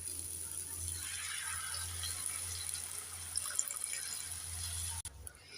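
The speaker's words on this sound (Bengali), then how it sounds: "এবার আমি দিয়ে দেব জল" Water poured into a pan of oil-fried spice paste while cooking a cauliflower and egg dish. A steady, close rushing pour and sizzle runs for about five seconds, then cuts off abruptly.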